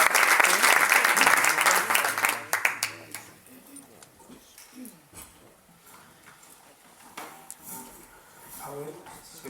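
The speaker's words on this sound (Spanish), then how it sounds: "no sin antes rogaros un fuerte aplauso para él" Loud audience applause greets a speaker at a talk on circular economy, rolling strongly for about three seconds before fading into scattered claps, room clatter and a voice talking.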